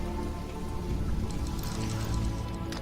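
Rain falling in a video game, a steady dense patter with a low rumble underneath that continues throughout without any talking.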